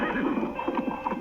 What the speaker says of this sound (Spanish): si alguna vez escuchas el galopar de un caballo en medio de la noche